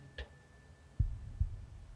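A single faint heartbeat, a soft low double thud, sits alone over quiet room hiss in a calm meditation setting.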